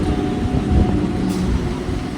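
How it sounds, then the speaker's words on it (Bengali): A Howrah to Bandel EMU local train pulls into Mankundu station, a low, steady rumble that stays level and fairly loud throughout, with no voices over it. "এবার আসছে Howrah two Bandel EMU local train. Mankundu স্টেশনের 3 নম্বর প্ল্যাটফর্মে আসছে।"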